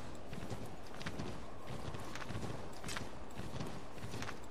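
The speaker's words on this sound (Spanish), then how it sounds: "Ahora está mi caballo." Horse hooves clip-clopping in the Assassin's Creed III video game, a steady rhythmic trot heard over continuous game ambience and noise.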